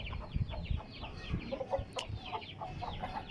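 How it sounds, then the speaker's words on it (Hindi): Chickens cluck in a repeated, uneven string of short calls on a farmyard where goats are also kept, moderately close, with low background murmur and no clear speech. "और ये मुर्गियां"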